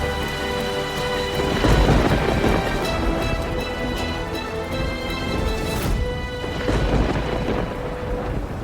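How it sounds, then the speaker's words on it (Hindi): Heavy rain pours steadily while rolling thunder rumbles loudly through the downpour, with no voices, a dense and continuous storm close around the listener. "बारिश भी नहीं रुक रही है।"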